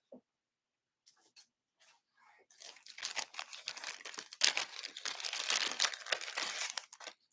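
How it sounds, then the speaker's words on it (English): Double-sided tear and tape adhesive being handled for card making, a few faint ticks after near silence, then a sustained close crinkling and rustling of the tape and its backing. "Then we're going to get some tear and tape."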